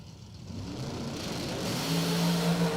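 Engine of a 1939 Chevrolet drag racing car at a doorslammer drag strip, building from a low rumble into a rising, loud revving roar with strong harmonic tones toward the end.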